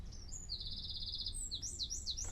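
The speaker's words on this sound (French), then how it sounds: "j'ai enregistré des petits sons d'oiseaux qui étaient autour de moi" Small birds chirp nearby in an outdoor field recording, with a long rapid trill followed by quick rising and falling tweets over a faint low rumble.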